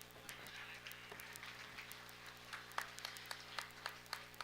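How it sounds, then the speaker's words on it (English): Scattered, faint clapping from a small audience at a county fair beef breeding show for Angus heifers, distant and sparse individual claps over a low background hum. "Let's give them a nice round of applause."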